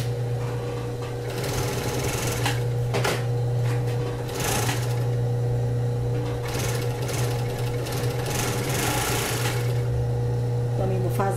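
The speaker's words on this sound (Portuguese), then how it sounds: "E você vai passar aqui uma costura overlock." An overlock sewing machine stitches a bra cup with a continuous, steady mechanical whir throughout, running under a voice as she talks.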